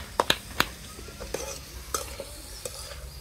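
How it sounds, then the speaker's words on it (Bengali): Radish greens stir-fried in a pan in a simple village kitchen: a soft continuous sizzle with several sharp metallic scrapes and clinks of a spatula against the pan, close by and without speech. "আর সেটা দিয়ে কিন্তু মূলার শাকটা ভাজি করব।"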